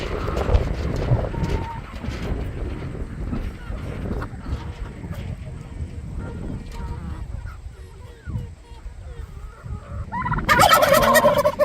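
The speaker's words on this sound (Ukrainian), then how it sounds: "Це в нас дорослі індики." Adult turkeys gobble repeatedly in a busy farmyard, with a loud burst of gobbling near the end and faint talk in the background.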